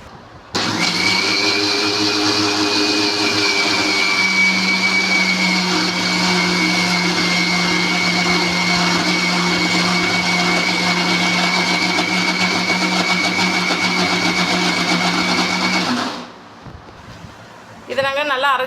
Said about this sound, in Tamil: இப்போ மிக்சர் ஜாரில் போட்டு வச்சுருக்கோம். இதை வந்து நாங்கள் நல்லா பேஸ்ட் ஃபார்முக்கு அரைச்சிக்க போகிறோம்.